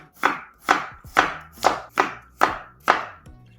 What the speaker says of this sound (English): You can thinly slice them.